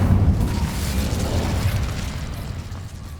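An Incendio fire spell cast in Hogwarts Legacy gives a loud, roaring burst of flame that holds steady for about three seconds, then eases slightly.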